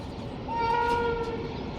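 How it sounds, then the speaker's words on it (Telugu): A train rumbles steadily, with a sustained horn-like tone swelling in the middle of the clip. "ట్రైన్ వస్తుంది చూడండి"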